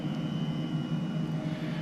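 An Airbus H135 helicopter flying in Microsoft Flight Simulator gives a steady, even engine and rotor drone with a constant whine, heard alone with no talk.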